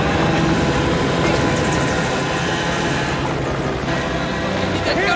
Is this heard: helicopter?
yes